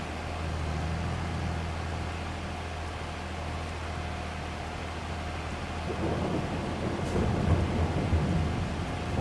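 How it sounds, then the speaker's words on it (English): Steady heavy rain with rolling thunder in Farming Simulator 22, a constant wash of noise with deep low rumbles building and swelling toward the end. "It's proper raining, like proper raining."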